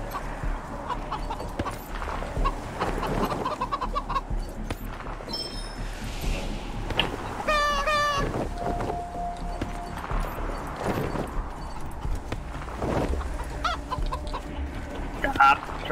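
Chickens cluck and a rooster calls in the post-apocalyptic video game Wasteland 3, with repeated clucks and crowing over busy game ambience and background sounds.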